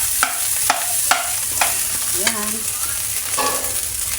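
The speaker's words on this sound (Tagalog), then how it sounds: "Ayan na guys, luto ng ating sinangag." Garlic fried rice (sinangag) stirred in a hot pan, a constant loud sizzle broken by regular scraping strokes of a spatula about every half second, close by, with a brief spoken word.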